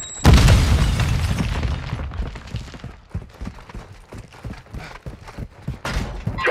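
A sticky grenade detonates in Call of Duty: Modern Warfare II, a loud close boom with a long rumbling tail, followed by scattered sharp pops and crackles of gunfire.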